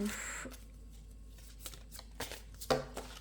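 Tarot cards being shuffled, some slipping out of the deck, giving soft riffling and a few sharp slaps of cards landing, close and quiet.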